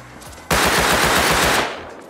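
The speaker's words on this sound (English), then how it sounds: "Where the fuck's the Tommy shooting me from?" A Tommy gun fires a rapid sustained burst in the video game Rust, loud and close, about a second of continuous automatic gunfire that stops abruptly and leaves a short fading tail.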